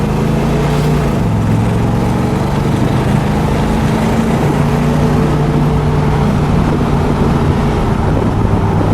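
Steady engine drone from a 1970 AMC Javelin SST on a short straightaway, heard from inside the car as a loud, continuous hum with wind noise and no talk.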